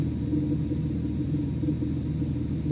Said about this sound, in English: Here now we've got a really irregular idle.